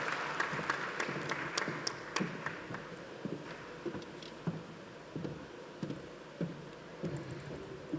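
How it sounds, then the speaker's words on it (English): Applause from the audience at the closing plenary of an apparel industry forum, a thin, scattered patter of claps that is somewhat distant and fairly quiet, with no voices over it. "Can we have another round of applause for our chief guest"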